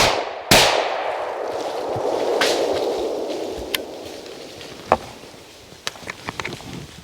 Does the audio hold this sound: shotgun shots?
yes